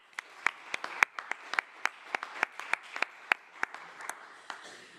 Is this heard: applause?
yes